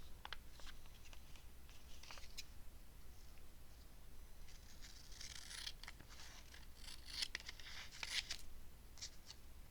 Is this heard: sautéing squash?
no